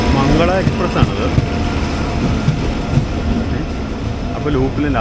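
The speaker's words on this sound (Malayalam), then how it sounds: "അപ്പുറത്തെ ലൂപ്പ് ലൈനിൽ കൂടെ ഒരു ട്രെയിൻ വരുന്നുണ്ട്." Mangala Express rolling past on the adjacent loop line, a loud, continuous rumble and wheel clatter close by, filling the whole stretch with a few sharper knocks.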